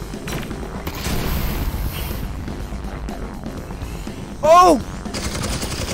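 Gunfire from an enemy's big gun in Half-Life: Alyx, heard as a loud burst of shots in the middle of the clip over steady game ambience, with a brief startled exclamation.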